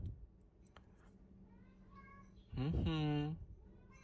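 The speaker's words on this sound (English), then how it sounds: "It's my cat calling." A pet cat calls from nearby with one drawn-out, rising-and-falling meow near the end, briefly rising above quiet room sound.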